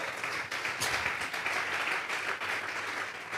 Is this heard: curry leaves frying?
no